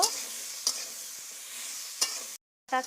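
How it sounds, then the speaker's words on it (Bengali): Vegetables stirred in a wok over a steady hiss of frying, with a few spaced scrapes of the ladle against the metal and a brief cut to silence near the end. "এবার সবজিগুলো আমি কড়াইতে দিয়ে দিয়েছি ভালো করে এবার নেড়ে নিতে হবে"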